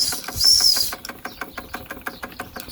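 A pre-WW2 Doll et Cie stationary steam engine from Nuremberg, Germany, running with a spinning governor, generator and drive bands, gives a steady rhythmic chuffing and ticking close by, a brief hiss at the start, with no talk.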